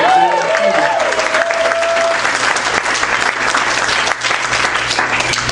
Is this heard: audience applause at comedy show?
yes